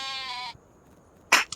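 Sheep in the Farming Simulator video game give a clear, harmonic bleat lasting about half a second, then a pause, then a short, rough second bleat near the end.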